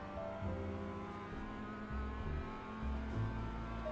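A race car engine in the iRacing sim drones steadily and fairly quietly throughout, with shifting harmonic tones as revs change through corners and straights, and no talk over it.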